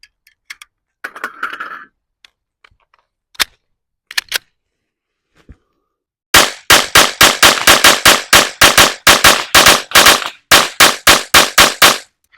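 A PSA Rock pistol fires a full magazine in a rapid string of loud, sharp, close shots at an irregular pace. Before it come a few scattered clicks and handling noises, with no talk.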